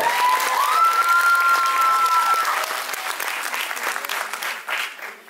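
Audience applause for a beauty pageant contestant at a Lady and Lord Réunion evening, a full crowd clapping with a sustained tone sounding over it early on, the clapping tapering toward the end.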